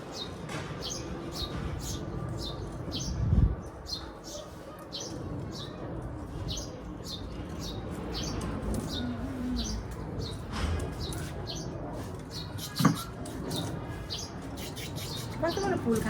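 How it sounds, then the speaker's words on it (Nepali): Pigeons coo and chirp repeatedly at close range while feeding on grain, with faint background noise throughout. "कस्तो मलाई फुल खाँदो रहेछ हौ परेवाले त"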